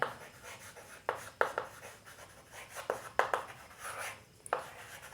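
A pen or marker writes out a subtraction step of a linear equation by hand, close and quiet, with short scratchy strokes and taps in an irregular rhythm and no talk.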